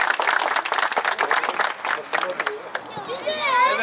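Crowd applause for the champion volleyball team Balgöç Masters at a trophy ceremony in İzmir rings out as dense, lively clapping with children's voices and chatter, thinning out toward the end as speech and cheering rise.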